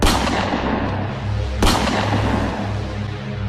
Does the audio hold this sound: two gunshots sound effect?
yes